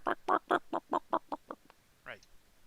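A person imitating a chicken clucking, a rapid run of about nine voiced clucks that fade toward the end, followed by a brief rising squawk, close and alone.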